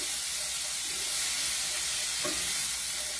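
Shrimp scampi being mixed in a hot pan gives a continuous loud sizzling hiss, with a soft utensil scrape or two under the steady frying, no voices.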